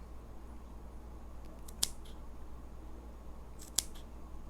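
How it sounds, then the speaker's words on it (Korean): Two crisp, isolated snips of fabric scissors cutting notches into the curved seam allowance of hand-sewn doll clothes, spaced about two seconds apart over a quiet background. "가위를 준비하고 가위집을 주는 게"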